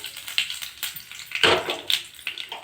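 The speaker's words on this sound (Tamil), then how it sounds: "கொஞ்சம் எண்ணெய் ஊற்றிக்கலாம். கருவேப்பிலை கொஞ்சம் போட்டுக்கலாம்." Curry leaves tossed into hot oil for tempering crackle and sizzle in sharp, spitting bursts, with a louder flare midway, heard close up in a home kitchen with no talking.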